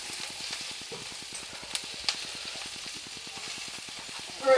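Garlic for chicken cacciatore sizzles softly and steadily in a hot pan, a low continuous crackle with a faint rhythmic ticking beneath, ending in a brief louder clatter.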